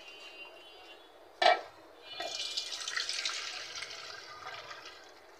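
Lentils are rinsed with water in a pot, with a sharp clatter of the pot followed by a sustained, close splashing and swirling of water.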